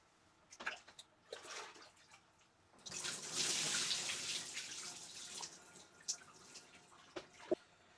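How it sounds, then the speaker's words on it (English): Water scooped from a bucket and poured over the head during a bucket shower, splashing in a loud, sustained burst after a few brief drips and splashes, then tapering off into scattered drops. "take that little scooper thing out of the bucket, scoop the water, go over your head, and then that's how you shower"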